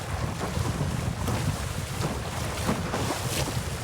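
Strong wind rushes across the microphone while windsurfing on the open sea, a loud, steady buffeting roar mixed with water and board noise, with no voices.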